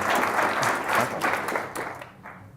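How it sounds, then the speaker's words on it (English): Applause from the audience at the FameLab Ireland 2017 final science-communication competition, a dense wash of clapping filling the hall for about two seconds before thinning and fading out. "you might as well clap for Rob too"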